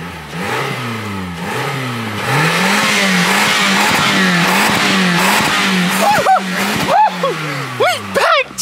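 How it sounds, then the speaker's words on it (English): A Stage 1 Mercedes CLS 550 with its muffler cut off is revved hard toward redline. The loud, close engine rises and falls in repeated pulls, then cracks and pops near the end, with people talking over it. "You gotta redline it."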